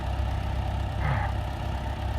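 A farm tractor idles steadily outdoors near a barn, a constant low rumbling drone with no talk over it.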